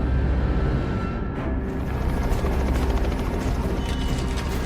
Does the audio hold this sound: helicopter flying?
yes